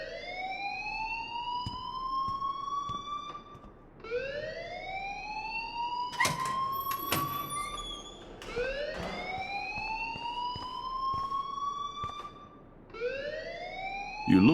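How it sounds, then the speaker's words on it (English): An electronic alarm in the game Life is Strange wails in repeated rising sweeps about every four seconds, loud and insistent, with a few sharp knocks between cycles. "please turn off that alarm since that's your job."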